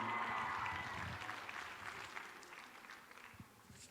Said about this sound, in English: Give these teens and seniors a nice big round of applause.